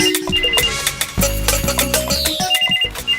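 A household telephone rings with a repeated electronic tone amid clattering and other busy domestic noise, moderately loud and close.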